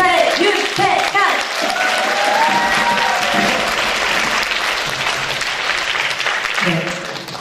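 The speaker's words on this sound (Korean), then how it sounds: "큰 박수 부탁드립니다." Concert audience applause, dense and loud clapping filling the hall, with a band leader's voice speaking over it at the start and near the end.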